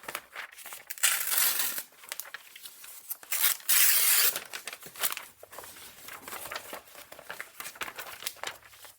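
A glossy page is torn out of a backpacking magazine, with loud ripping and crinkling bursts followed by softer rustling paper handling close by, no voices.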